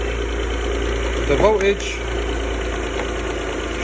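An Alfa Romeo GTA 24-valve engine idles with a steady, even hum after an alternator replacement, while someone speaks briefly over it.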